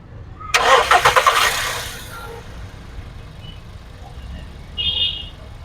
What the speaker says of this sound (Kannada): ಇಂಜಿನ್ ಸ್ಟಾರ್ಟ್ ಮಾಡಿನೂ ಕೂಡ ನೋಡೋಣ ಹೆಂಗಿದೆ ಅಂತ